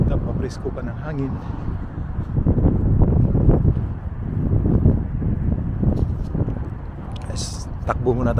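Early-spring wind gusts across the microphone beside a river in Japan, a heavy low rumble that rises and falls under a person talking throughout.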